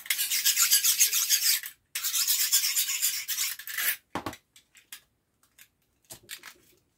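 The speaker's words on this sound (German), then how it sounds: "Dann nehmen wir unser Cuttermesser" A utility knife slices through material in two long sustained rasping strokes, followed by several short scattered cuts and scrapes, close and alone.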